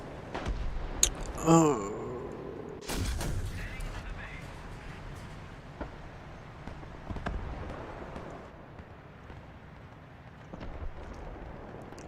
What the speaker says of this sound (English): Now I'm getting shot at with rockets.